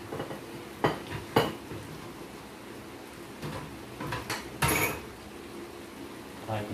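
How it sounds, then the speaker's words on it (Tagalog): Vegetables including eggplant being stirred in a pot of kare-kare, with intermittent clinks and knocks of a utensil against the pot separated by quiet stretches, close and moderately loud. "haluin pa natin yan."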